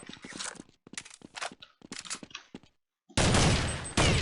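Gunfire in Counter-Strike 1.6 on a jailbreak server: several bursts of rapid shots in quick succession, then a short silence and a louder, dense volley at the end, close and loud.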